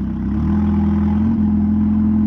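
A Renault Clio engine with one cylinder misfiring runs close by, giving an uneven, steady mid-pitched hum that lurches slightly partway through.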